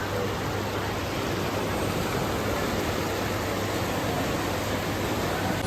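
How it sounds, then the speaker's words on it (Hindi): Waves of the Ganges river lapping at night in Haridwar, a constant dense rushing wash of water without distinct breaks, heard close and steady with no voices. "गंगा जी की लहरें आपको दिखाते हैं रात को"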